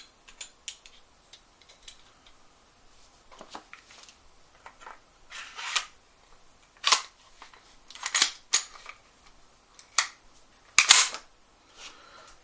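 A Springfield XD-M Elite 9mm pistol is put back together, giving scattered crisp metallic clicks and snaps of parts sliding and seating, close by and separated by quiet pauses.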